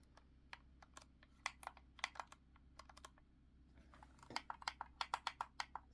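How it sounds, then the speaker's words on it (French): Small, sharp clicks from the paddles of a Turtle Beach game controller, coming in quick irregular bursts, fairly faint and close, with a faster run of clicks near the end. "des fois, vous entendez des petits clics bizarres"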